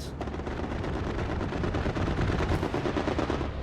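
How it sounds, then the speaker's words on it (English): Sustained aircraft strafing-run gunfire in the Hell Let Loose World War II shooter, a dense, continuous rattle of rapid shots and impacts that stays loud throughout with no talking. "Strafing run is also coming down."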